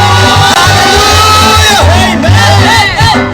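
A church congregation clapping and cheering during a lively service, loud shouts and whoops rising over a dense crowd roar, close and energetic.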